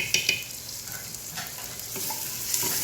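Onion and garlic frying in ghee in a pot for kunna gosht, a steady soft sizzle with faint stirring scrapes throughout, close and moderately quiet.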